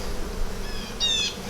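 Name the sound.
honeybees buzzing on a hive frame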